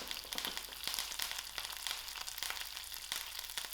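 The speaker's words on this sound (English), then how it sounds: "To my onions, I'm going to add in my cinnamon stick and allow this to fry for a little while" Onions fry in oil with a cinnamon stick and curry leaf, producing a steady, fairly quiet crackling sizzle with small irregular pops throughout.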